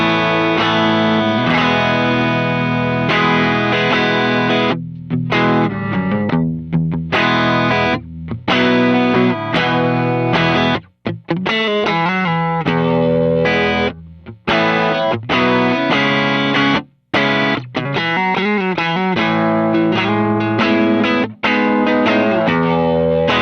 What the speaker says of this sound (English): this is what the neck pickup sounds like in a clean tone